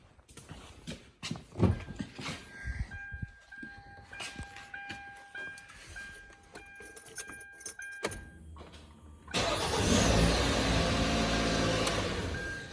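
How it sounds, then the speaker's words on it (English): Keys jangle near a 2015 Kia Sportage 2.4, and then the engine cranks and catches, settling into a loud, steady close run for the last few seconds. "so I'm just gonna see if it cranks."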